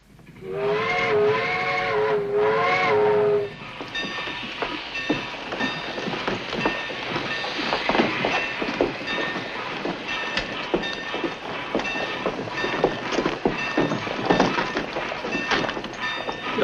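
A steam whistle blows two long harmonic blasts, then a train chuffs and clatters steadily along, loud and close, with hissing steam throughout.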